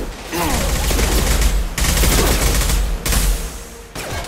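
Loud, dense bursts of gunfire and grenade blasts from the sci-fi shooter Mass Effect 2 come in three long sustained volleys, separated by brief abrupt breaks.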